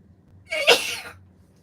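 A single close, loud sneeze bursting out of near silence and trailing off quickly.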